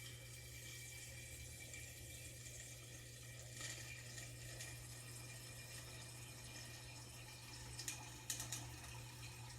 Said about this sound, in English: we're going to finish filling the jar the rest of the way with agua